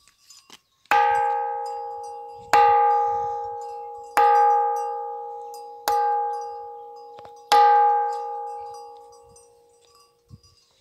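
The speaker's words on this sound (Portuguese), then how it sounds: "um som bem característico assim de um sino mesmo" Five sharp strikes on a ringing rock, each ringing out with a clear, bell-like tone that slowly decays, spaced a couple of seconds apart.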